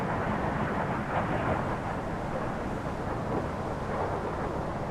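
Steady, broad roar of an aircraft launching for close air support in a Soviet naval strategy game, a constant rumbling wash with no speech over it.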